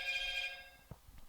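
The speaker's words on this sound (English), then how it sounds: "rookie mistake, I left my phone on loud." A mobile phone left on loud rings with a bright, repeating electronic ringtone, then breaks off into quiet room sounds and a few soft knocks in a podcast studio.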